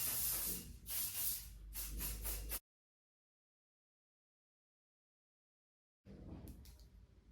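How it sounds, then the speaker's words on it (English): Hairspray misted over styled hair, concentrated at the crown: a loud, steady hissing spray lasting a couple of seconds, then a pause and a shorter, fainter burst of spray. "And then a nice spray all over, especially at the crown,"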